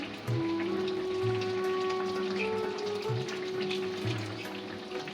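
Fried cumin paste goes into a simmering puishak curry with fish, giving a steady, close sizzling and bubbling hiss with a faint tonal hum underneath and no talking.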